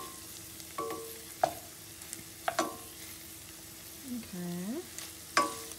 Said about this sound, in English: I want the green onions to cook a little bit more